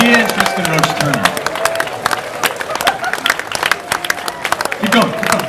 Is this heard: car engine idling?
no